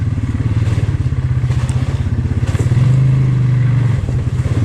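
A Polaris Sportsman 570 SP ATV engine runs steadily up close with a pulsing, throbbing exhaust note, rising briefly into a held higher-pitched rev near the middle before settling back.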